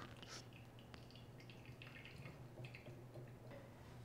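Brewed coffee dripping through an AeroPress fitted with a Fellow Prismo attachment, heard as faint, scattered small drips and trickles in an otherwise quiet room.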